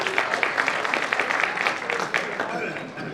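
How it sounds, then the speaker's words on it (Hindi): A crowd at a village fair poetry recital (kavi sammelan) claps steadily, a continuous dense patter of many hands throughout, with voices underneath. "जोरदार तालियों से अपनी बेटी की आप विदाई करें"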